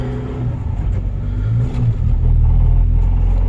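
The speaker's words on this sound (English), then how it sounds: "I haven't started this car in a while. It's cold start." A turbo Honda D16 car engine on a cold start in a parking lot, rough low rumbling that swells partway through into a louder, steadier idle, close to the microphone.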